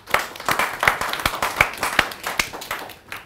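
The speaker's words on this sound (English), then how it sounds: "Round of applause." A modest audience applauding at a talk on environmental ethics, scattered distinct claps that never fully blend into a roar, moderately loud and alone.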